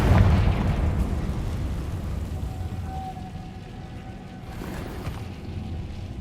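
Confringo blasting spell going off in Hogwarts Legacy, a loud rumbling burst at the start that fades into a sustained crackling, debris-like roar, with a brief whistling tone midway and a second swell near the end.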